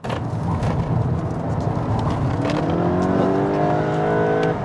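A VW Golf GTI MK8 accelerating hard, its engine note climbing in a loud, close run while the DSG dual-clutch gearbox snaps through quick shifts, with no voices over it.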